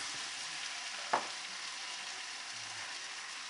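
Sirloin steak and noodles with soy sauce sizzle steadily in a hot pan, a constant crackling hiss with one brief clatter near the middle.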